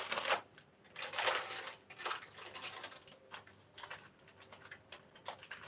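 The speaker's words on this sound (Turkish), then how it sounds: "Şimdi yağlı kağıtları koparıyoruz." Sheets of baking paper are torn off a roll in a kitchen, making quiet, crisp ripping and crinkling bursts that come in several short, uneven snatches.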